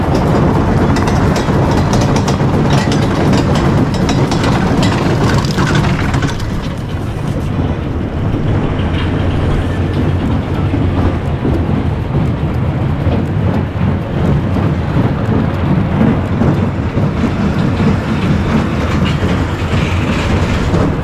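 A 104-year-old wooden roller coaster in New York rattles along its track, a loud continuous clatter and rumble throughout with shifting intensity as the empty train runs its laps.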